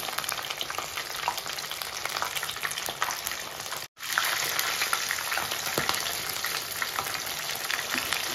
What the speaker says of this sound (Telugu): ఇంకొంచెం 5 నిమిషాలు ఫ్రై అయితే అయిపోయింది చికెన్ పకోడా